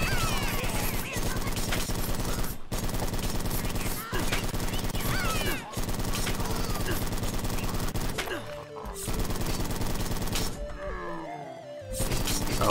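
Gunfire in the Chop Goblins video game, a dense, loud run of rapid shots and crashes under game music, with a few brief breaks and a quieter stretch near the end.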